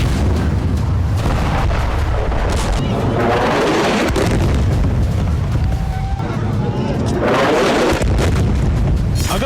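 Explosions from an Israeli forces attack in Gaza roll out as loud, close booms and rumbling blasts that repeat through the stretch, with a dense roar between them and voices mixed in.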